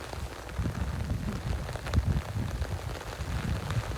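Heavy rain pours down steadily in a rural province, a dense, constant hiss of drops striking surfaces with low rumbling underneath, close and unbroken, with no talk.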